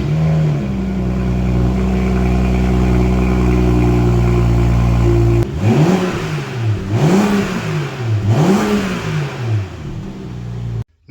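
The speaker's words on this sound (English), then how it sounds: "I wanted to give you a cold start as is." A BMW 435i with its original exhaust cold-starts: a steady, loud idle drone holds for about five seconds, then the engine revs up and down in three rising and falling sweeps before cutting off.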